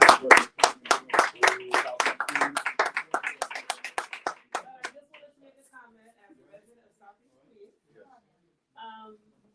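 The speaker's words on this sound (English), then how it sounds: "I would like to give her a round of applause" An audience at a housing listening tour in Jamaica, Queens claps with loud hand claps that start dense and gradually thin out to scattered claps, then fade to quiet with a last brief burst.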